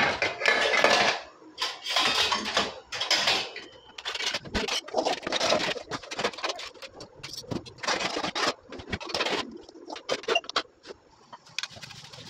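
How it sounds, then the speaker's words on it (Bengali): Metal cooking pots and utensils are handled and put away in a home kitchen. Bursts of clattering, scraping and clinking come close and loud, with short pauses between the knocks. "ওইদিকে আমার বাসনগুলোও গোছানো হয়ে গেল"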